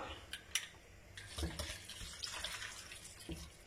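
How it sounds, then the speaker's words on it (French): Hot water running from a tap into a small 25-centilitre bottle while a pork and chestnut dish is cooked, a steady faint splashing stream with a few light clinks of glass, close and without talk. "Et je vais en remplir une d'eau chaude."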